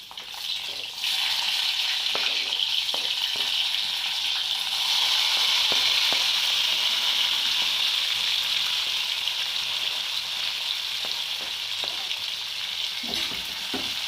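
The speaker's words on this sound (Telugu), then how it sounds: "ముందే నేను కోసి పెట్టుకున్న ఉల్లిపాయ, టమాటో, క్యారెట్, పొటాటో కూడా వేసేసుకుంటున్నాను" Chopped onion, tomato, carrot and potato fry in a pan for tomato rice, a loud, even sizzle that starts after a second and holds steady, broken by faint utensil taps.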